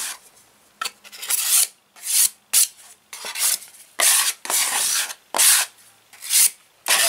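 Powder filler is worked and scraped across a mixing board with a knife, repeated rough rasping strokes in an uneven rhythm, loud and close with brief pauses between passes.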